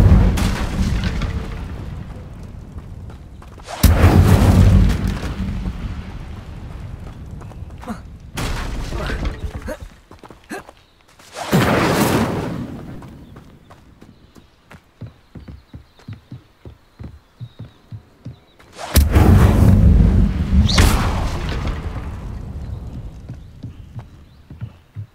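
Incendio fire spells burst repeatedly in the Hogwarts Legacy video game, loud whooshing explosive blasts arriving in clusters with quieter clattering gameplay sounds between them.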